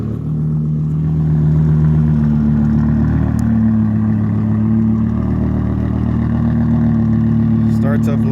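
A 2006 BMW M5 E60 sedan engine is running after startup, a loud close rumble that swells in the first seconds and then settles into a steady idle drone with a faint mechanical whine on top.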